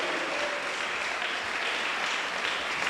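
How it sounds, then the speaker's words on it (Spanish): Church congregation applauding during a Spanish-language sermon, a steady, even patter of many hands clapping at moderate loudness with no speech over it. "Hasta le damos un aplauso a la palabra de Dios."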